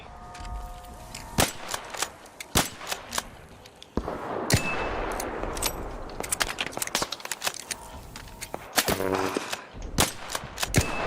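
Gunfire in the video game Arc Raiders: scattered sharp shots and short bursts crack out repeatedly over about eleven seconds, some close and loud, others fainter, over a rough background.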